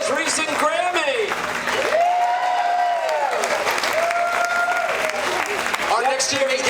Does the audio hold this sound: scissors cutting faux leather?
no